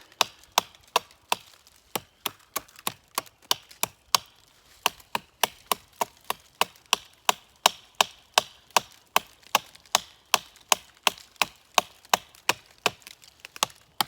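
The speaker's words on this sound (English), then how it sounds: "just kind of give you an idea how good it is at chopping over here" Colonial CE 400 knife chopping dead, resinous fat wood in a steady series of sharp, close impacts, about two strikes per second, with no talking.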